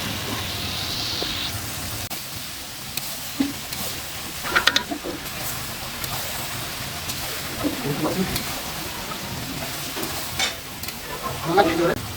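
Boiled mutton fries in a wok with a steady sizzle, stirring scrapes and clatters, with occasional voices in the background.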